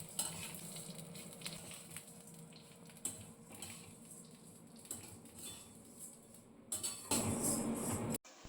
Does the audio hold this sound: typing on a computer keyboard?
no